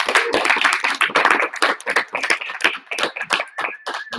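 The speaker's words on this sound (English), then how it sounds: "So if you guys want to give Raymond a bit of a round of applause here." A live audience at a comedy lounge show applauds a guest scientist, with dense, fast clapping from many hands that stays loud and steady, then thins toward the end as a few final claps trail off.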